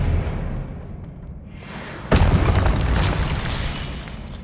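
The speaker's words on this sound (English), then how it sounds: "Expelliarmus!" Expelliarmus spell cast in the video game Hogwarts Legacy, a sudden loud whooshing burst with a heavy thump that then settles into a sustained roaring rumble, following a quieter stretch of game ambience.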